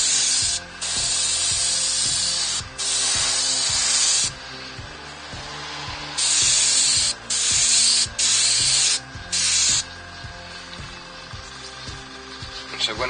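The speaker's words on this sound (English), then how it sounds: "with this airbrush, it's a siphon feed brush" A siphon-feed airbrush sprays colour onto a woodturned bowl in close, loud hissing bursts of a few seconds each, separated by short gaps, with a steady pulsing compressor thump underneath.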